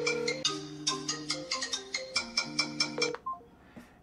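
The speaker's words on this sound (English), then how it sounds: "we will try calling a contact" A RealSAM Pocket smartphone plays a rapid, bright melodic ring pattern while placing a call to a contact, with repeated tonal pulses close and clear before stopping abruptly.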